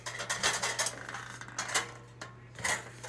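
A metal mouse trap cage with its paddle stuck, jiggled by hand: a run of light, rattling metallic clinks and taps in uneven bursts, close and fairly quiet, with no talking.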